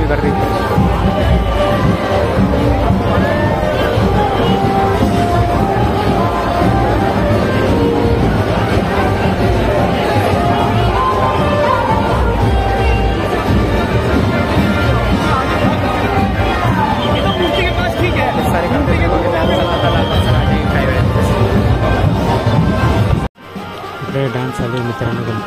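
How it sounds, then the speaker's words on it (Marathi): A large crowd at a Ganesh immersion procession in Mumbai makes a dense, loud, continuous babble of many voices. It drops out for a moment just before the end. "गर्दी बघा तुम्ही, गर्दी."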